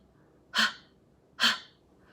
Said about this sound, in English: then I make little breaths into it